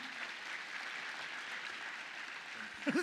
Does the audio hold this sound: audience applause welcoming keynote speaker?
yes